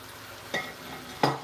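Onions go into a hot pot for a tomato and okra soup, giving three short, sharp sizzling bursts close by against a quiet background.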